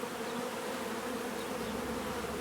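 Honey bees swarm around a first bee package being installed into a hive, making a dense, steady, close buzzing drone that holds level throughout with no voices.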